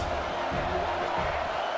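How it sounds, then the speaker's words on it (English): A stadium crowd roars in a College Football 26 video game, a dense steady wash of cheering with a faint game commentary voice underneath. "Big 3rd down as the crowd gets behind this defense."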